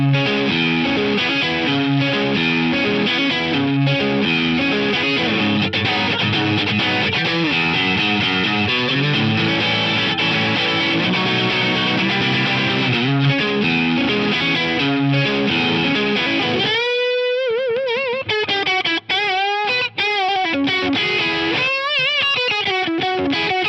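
Electric guitar on a Stratocaster's middle pickup, played dry without fuzz, echo or vibe effects, with sustained chords and lines ringing steadily, then sparser bent notes and short pauses near the end.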